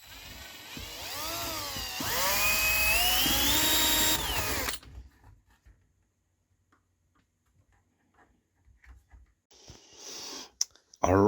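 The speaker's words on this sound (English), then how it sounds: "So I'm going to drill a little hole just right here." A small hole is drilled into a Yamaha DX21 synth, a loud high whine with a rising pitch sweep lasting about four seconds, then near silence broken by faint handling clicks and rustles.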